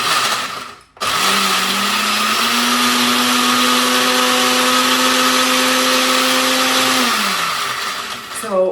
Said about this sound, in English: it's actually the motor that keeps making that consistent sound, even though the ice is completely crushed in the Tribest